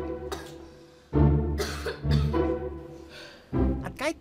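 A string of close, harsh coughs comes in uneven bursts, mixed with some throat clearing, and the last bursts are louder.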